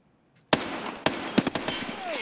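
Gunfire rings out in a video game shootout: after a brief silence comes a sharp, loud burst of several close shots, with more irregular reports following and a faint voice underneath.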